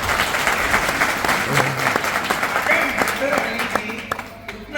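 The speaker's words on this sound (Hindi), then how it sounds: "उनकी पूरी टीम के लिए जोरदार ताली" Loud, sustained audience applause at a networking marketing meeting, dense clapping from a crowd that carries evenly throughout with voices murmuring underneath.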